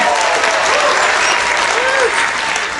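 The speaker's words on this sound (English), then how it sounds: "Can we give these three kids a round of applause for examining my money?" Audience on a Disney Magic cruise ship applauds three kids at a magic show, a dense, loud, steady wash of clapping from a large crowd throughout.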